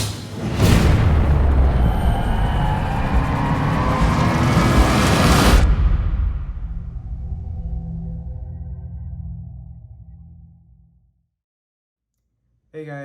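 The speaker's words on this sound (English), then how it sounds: "We have very massive strobe pots here." Grand Patriot Jumbo Strobe firework pots fire in a loud, dense burst of crackling strobe pops for about five seconds, then taper into a fading, rumbling tail and near silence.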